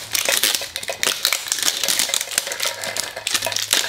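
Packaging of a Pokémon Galar Pal mini tin crinkles and crumples loudly as it is torn open up close, a continuous dense rustling with sharp crackles throughout.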